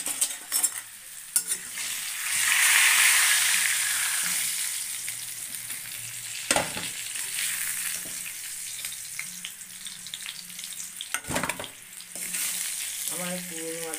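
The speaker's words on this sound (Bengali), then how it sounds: "তো এবার আমি আলুগুলো তুলে দেবো," Potatoes sizzle steadily in a hot pan with spices while a utensil stirs and scrapes against the metal, with occasional louder clanks over a continuous frying hiss.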